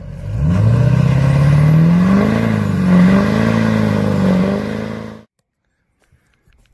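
A Cummins diesel truck revs hard, its engine note climbing and swelling in loud sustained pulls for about five seconds before cutting off abruptly into silence.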